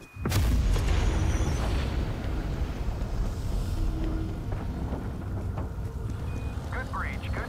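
A weapon firing explosion in Call of Duty Cold War Zombies on the Mauer der Toten map, a sharp loud blast followed by a long booming rumble that slowly fades, with a voice talking over it.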